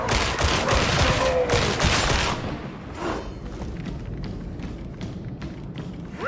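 Gunfire in the video game Warhammer 40,000: Darktide during beta gameplay: dense, loud rapid shooting for the first couple of seconds, then scattered lighter shots and clatter over a rumbling battle background.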